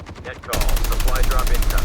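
Rapid automatic gunfire in a first-person shooter video game bursts in after a quieter moment, a loud continuous rattling stream of shots with game sound beneath.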